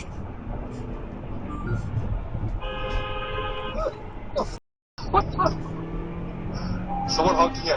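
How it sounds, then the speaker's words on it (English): A vehicle horn sounds a sustained toot in traffic on a road, with a steady cabin and road hum underneath. A brief dropout follows, then further tonal honking later on. "Someone honking at you?"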